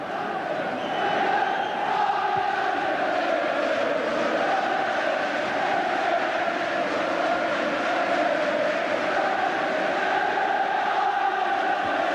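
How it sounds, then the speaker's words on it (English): A packed Old Trafford crowd at a 1992 Premier League match between Manchester United and Leeds United roars in sustained jubilation, a dense wall of voices swelling and chanting steadily throughout. "The sound of the crowd tells the story here. Jubilation at Old Trafford."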